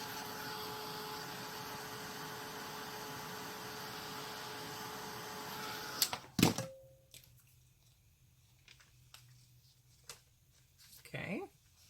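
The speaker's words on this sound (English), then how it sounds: "So I'm just going to take out my heated craft tool" A heated craft tool (heat gun) blows a steady, loud rush of air for about six seconds, then cuts off abruptly, leaving a quiet room with a few small clicks and shuffles.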